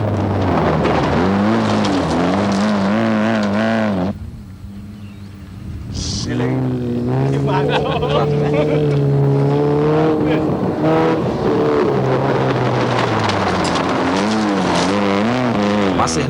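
Rally cars on a 2.43 km special stage in Negeri Sembilan during a 1992 Malaysian Rally Championship round: loud engines rev and drop in sweeping surges, go briefly quieter partway through, then return with repeated revving as cars pass close by.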